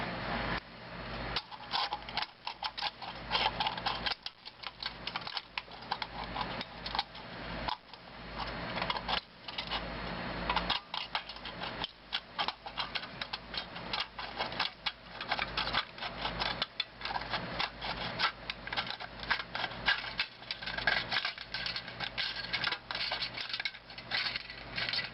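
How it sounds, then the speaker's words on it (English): Rapid, irregular metallic snipping and crunching as the bottom piece of a homemade alcohol stove is cut from a can, continuous clicking cuts close to the microphone and fairly quiet. "And we need to cut along this line right here."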